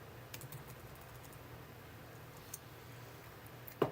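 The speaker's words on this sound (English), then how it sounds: "Bear with me as I type these names in." Typing on a computer keyboard, soft quick key clicks in scattered short runs, faint and close in a quiet room, with one sharper click at the end.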